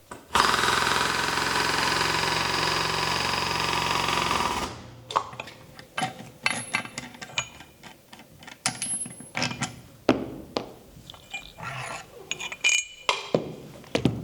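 A Wallmek press tool seats a new bushing into a Peugeot/Citroën control arm: a steady loud mechanical drone for several seconds, then a scatter of sharp metallic clicks and clinks.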